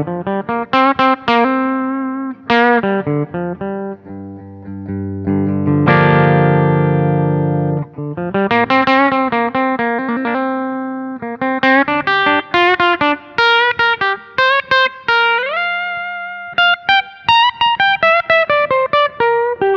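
A Tokai ALS62 Les Paul electric guitar on its rear humbucker pickup plays overdriven riffs and a sustained chord, loud and close with a distorted, effects-laden tone.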